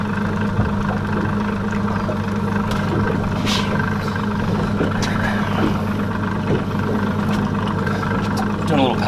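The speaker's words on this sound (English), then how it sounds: "Sometimes you use the motor to do a little power drift if need be" An outboard motor on a fishing boat in a back bay, running steadily for a slow power drift, a constant mid-low drone with a person talking over it throughout.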